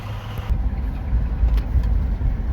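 The engine of a 1962 Studebaker Champ truck drones steadily while driving, a close, low rumbling hum inside the cab that grows a bit louder after a brief click.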